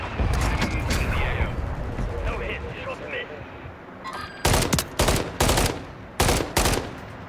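Gunfire in Warzone 2.0, with sustained automatic shots through the first few seconds, then several loud separate bursts in quick succession near the end, while players talk over the shooting.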